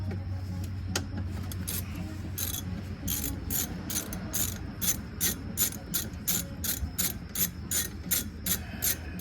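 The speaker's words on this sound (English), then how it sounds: "Loosen the two 12mm bolts that hold on the actual brake caliper to the brake assembly." A ratchet wrench loosens the 12mm brake caliper bolts on a Honda CR-V rear brake, a rapid run of regular clicking strokes that starts after a few seconds of low background hum and continues steadily.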